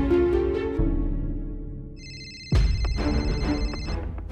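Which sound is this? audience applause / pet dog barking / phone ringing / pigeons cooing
phone ringing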